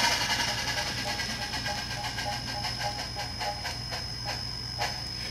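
A Proto 2000 Berkshire model steam locomotive with Tsunami sound decoder coasts down after the throttle is cut, giving a steady hiss with a soft rhythmic chuff and clank that carries on at an even level throughout.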